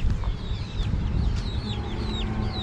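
Several chickens cluck and chirp close by in a village coop in a busy, overlapping chorus, with a low steady rumble underneath.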